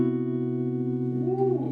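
A single sustained Lydian chord, major with a raised fourth, rings steadily and moderately loud on a keyboard or similar instrument, with a faint swell of higher tones near the end; no talking.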